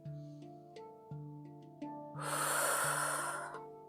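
Forceful exhale during a yoga exercise for diastasis recovery, one breathy rush of about a second and a half, fairly close, rising over soft background music with no talking.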